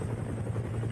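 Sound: helicopter flying

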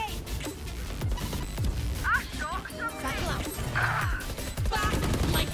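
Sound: grenade explosion and gunfire in video game Valorant

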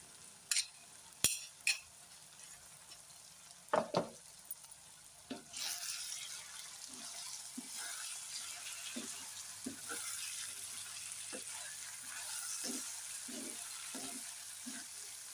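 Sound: cabbage frying with moong dal and onions in pan

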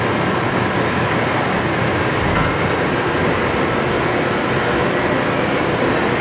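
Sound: Kingston HD 26x120 machine running

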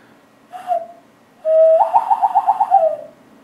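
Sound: loon bird call imitated by blowing through cupped hands

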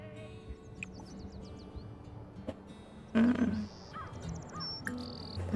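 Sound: birds singing in a video game

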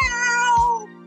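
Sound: cat meowing

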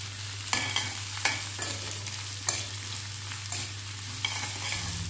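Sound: vegetables sautéed and stirred on high flame

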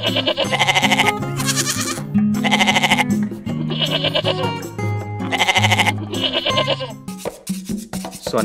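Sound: goat bleating at a zoo

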